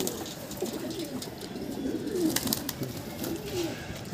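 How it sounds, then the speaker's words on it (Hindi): A pigeon coos in soft, low, repeated phrases close by, steady and unhurried against faint background noise, while it takes a water bath. "ये कबूतर अभी नहा चुका था फिर नहाने जा रहा है"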